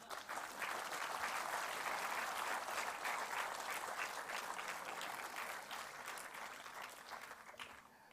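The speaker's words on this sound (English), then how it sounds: "please have a round of applause" Sustained applause from a large audience at a silver jubilee celebration, dense and steady for most of the stretch before thinning slightly toward the end.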